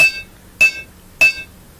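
A hammer rings sharply on hot iron while a dagger is forged, three loud metallic strikes at a steady beat about six-tenths of a second apart, each with a bright ringing tail and nothing between.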